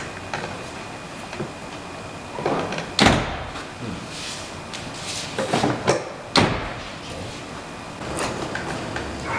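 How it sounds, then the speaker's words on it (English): Two sharp car door thuds from a custom wide-body Toyota MR2 with refitted stock doors land a few seconds apart, with rattling and clicking handling sounds around them, heard up close. "The door, you know, goes just this way now. It doesn't go up anymore."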